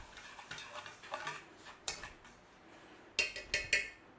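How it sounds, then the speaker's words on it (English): Dried herbs for homemade Italian seasoning being stirred together in a bowl, giving a series of light ticking and scraping clinks from a spoon, some sharper taps near the end, close and fairly quiet with no talking. "let's mix it all together. Get all those herbs together in there."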